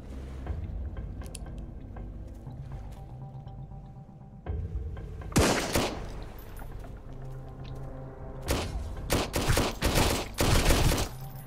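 Enemy machine gun fire in Sunkenland erupts in loud, close bursts, a long rattling volley in the middle and several sharp clustered bursts later, separated by quieter stretches of background game noise.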